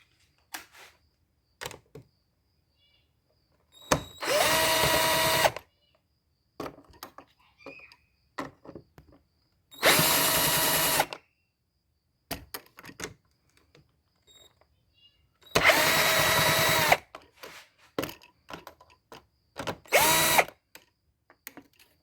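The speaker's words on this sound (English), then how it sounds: "You need a 5/16 socket to unscrew it." Power driver with a 5/16 socket unscrewing the air filter housing bolts on a Ford Escape, four loud whirring bursts of a second or so each, separated by quiet pauses with small clicks and handling sounds close by.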